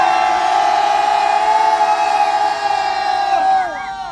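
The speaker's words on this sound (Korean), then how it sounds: "우리 애국 대학생들에게 크게 한번 응원의 함성을 한번 질러보겠습니다" A protest crowd raises a loud, sustained shout of support in unison, holding one long drawn-out cry that swells and then trails off and falls away near the end.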